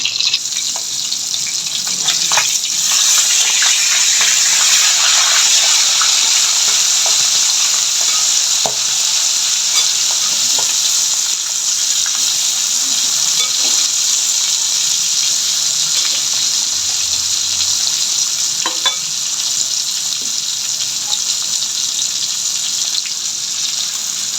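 Hilsa fish head and potato pieces fry together in plenty of oil, producing a loud, dense, continuous sizzle with occasional stirring scrapes and crackles throughout, no voices.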